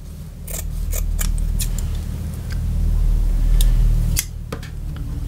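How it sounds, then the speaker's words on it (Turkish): Sewing scissors snip through the fabric seam allowance of a shawl, a series of sharp, irregular metallic clicks and crunches over a constant low hum. "Bu payı bir makas yardımıyla kesebilirsiniz."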